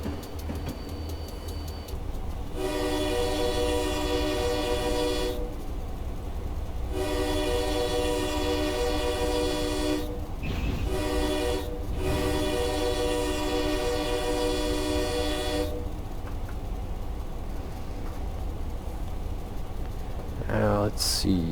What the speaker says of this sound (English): It's such a nice air horn.